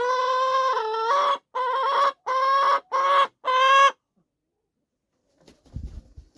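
A hen being held lets out a run of loud, close clucks and squawks in five quick bursts, then falls silent, with a faint rustle near the end.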